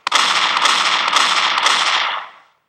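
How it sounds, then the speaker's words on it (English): A single loud, sharp blast of shotgun fire in the video game Shotgun Funfun, a close bright crack that fades over about two seconds. "All you do is run around this little map, shooting people, or zombies"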